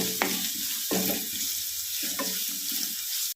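Onions fry in a nonstick pan with ghee, giving a steady close sizzle broken by a few brief stirring scrapes and clatters.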